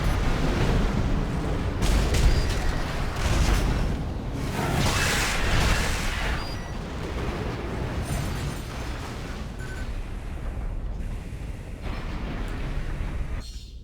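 A missile launcher firing volleys in Armored Core 6, several loud whooshing launches and booming impacts in bursts, followed by a long, steady rumbling roar.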